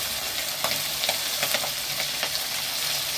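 Green chilies and tomato fry in a pan for a fish curry, with a close, even sizzle and scattered scrapes and taps of a spoon stirring.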